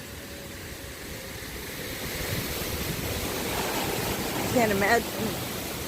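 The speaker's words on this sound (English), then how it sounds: "One waterfall after another with this place." Continuous rushing water from a waterfall along a nature trail in a rocky canyon, steady broadband roar with some wind, while a person speaks briefly near the end.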